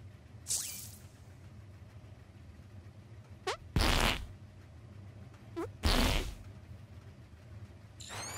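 Cartoonish fart attacks in the game South Park: The Fractured but Whole: several short, loud bursts, two heavier blasts and a few squeaky rising toots, spaced a couple of seconds apart over a low background hum.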